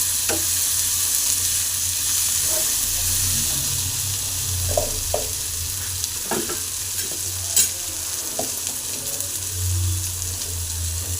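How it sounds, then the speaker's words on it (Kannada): Okra and tomato frying in a pan, a steady soft sizzle with occasional stirring clicks and scrapes, close and fairly quiet, no talking. "ಟೊಮೆಟೊ ಫ್ರೈ ಆದಮೇಲೆ ಬೆಂಡೆಕಾಯಿ ಹಾಕ್ಕೊತಾ ಇದ್ದೀನಿ."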